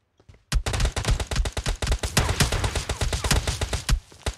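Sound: gunfire in PUBG Mobile video game

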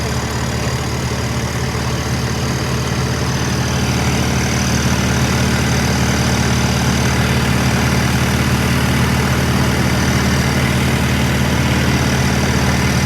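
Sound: tractor engine idling

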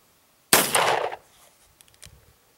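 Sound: gunshots from .38 Special revolver with small rifle primers

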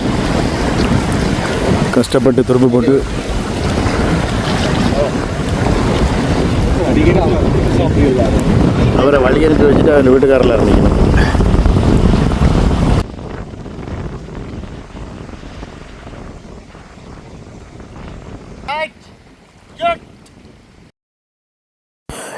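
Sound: strong wind blowing outdoors by a pond

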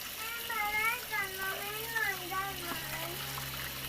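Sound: water rinsing apple snails in a basket

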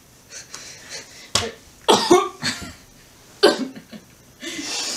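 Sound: coughing

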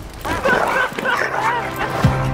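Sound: dog barking

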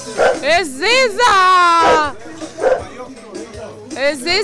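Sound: dog barking

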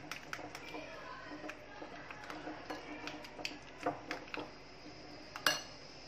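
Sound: mixing two eggs in a bowl

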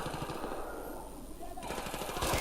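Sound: gunfire in a video game

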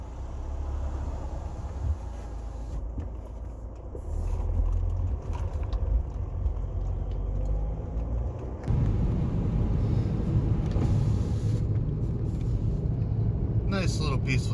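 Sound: driving in a 2006 Volkswagen Jetta TDI

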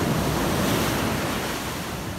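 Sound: ocean waves breaking on Culburra Beach at night

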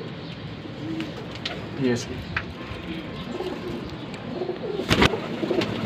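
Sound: pigeons cooing, Lakha golden pigeon

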